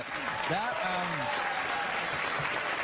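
A studio audience on a late-night talk show applauds under a voice that talks over it, the clapping a steady wash of hands throughout the brief moment.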